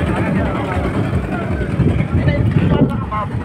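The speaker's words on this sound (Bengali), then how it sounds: "নৌকা চলছে।" A boat moves across floodwater on a wide river in the Chalan Beel wetland, its steady low rumble and wash running continuously and fairly loud, with some wind buffeting and a voice speaking over it.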